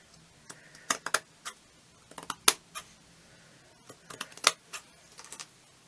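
Scissors snipping delicate sewing thread or fabric up close: several quick, crisp cuts and small metallic clicks in irregular clusters over a quiet background.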